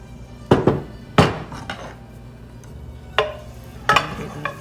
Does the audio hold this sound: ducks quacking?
no